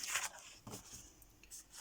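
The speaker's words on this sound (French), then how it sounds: "je vais d'abord déchirer mon papier" Paper being torn by hand for a vintage Easter bookmark collage: close, crackly rips in short bursts with pauses between, no voices.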